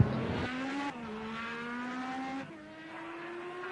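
An IndyCar race car in the ARC Indycar video game on the Ruapuna Park outer loop whines past at steady high revs, the engine note climbing through gear changes, loud and alone.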